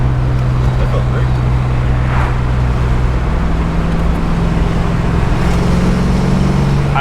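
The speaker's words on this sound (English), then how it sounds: "I love the exhaust note on this car." A 1989 Ford Mustang convertible on the move gives a steady, low exhaust drone under a constant wash of road and wind noise, loud and unbroken throughout.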